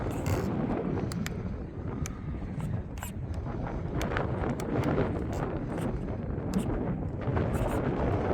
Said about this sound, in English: that wind is coming out of the south